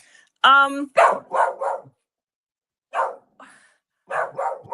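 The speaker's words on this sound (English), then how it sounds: "My dog is starting." A dog barks several times in short bursts, loud and close, with a whiny yelp at the start and brief pauses between barks.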